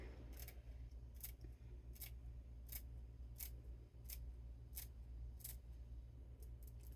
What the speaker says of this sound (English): So let's cut some herbs up here on top of this.